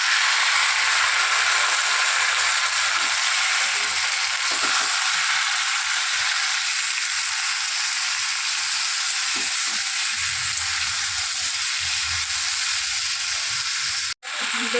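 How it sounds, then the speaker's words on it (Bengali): Garlic and mixed vegetables fry in a hot pan, giving a loud, steady sizzle and hiss that runs without pause until a brief cut near the end. "এটা একটু ভাজা ভাজা হয়ে যাবে, তারপর সবজিগুলো আমি দিয়ে দেব।"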